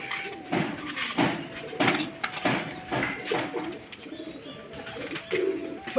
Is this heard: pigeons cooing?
yes